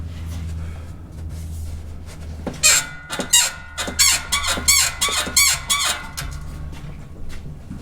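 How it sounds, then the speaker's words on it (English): A Jeep CJ-5 suspension squeaking in a series of rhythmic, high-pitched creaks, about eight in a row, loud and close over a low engine rumble. "the only way I can shake the truck around enough to make the squeak"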